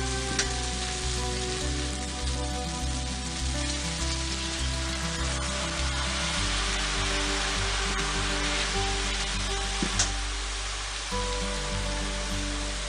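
Broth hitting a hot pan of fried cabbage and tempeh, a steady dense sizzle like rain on a surface, even and close, with a low hum beneath it and no talk.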